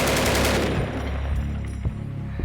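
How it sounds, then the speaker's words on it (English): A .50 caliber machine gun fires during a nighttime fight against the Taliban in Kandahar, a dense burst of heavy shots at first that trails off into scattered reports and rumbling echoes. "This 50 cal is their main gun."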